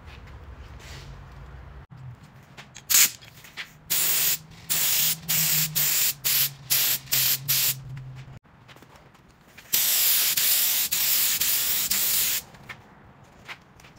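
HVLP spray gun applying lacquer finish to frames, hissing in repeated short trigger bursts followed by one longer continuous spray, close and loud, with no talking.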